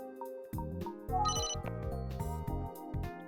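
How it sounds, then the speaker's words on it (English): A phone ringtone chimes in the Emio detective video game, a bright repeating melodic ring over soft background music, with no voices. "Oh, am I getting a phone call?"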